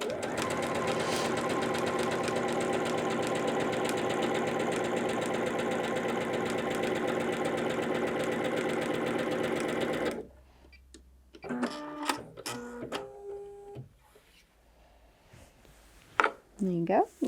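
A Bernette b77 sewing machine runs a narrow straight stitch in one steady, loud, rapid mechanical chatter for about ten seconds, then stops abruptly, leaving a quiet room where a person talks.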